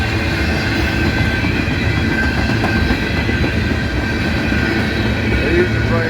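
A freight train rumbles past steadily at close range through Abbeville, wheels clattering on the rails with an occasional faint squeal, continuous throughout.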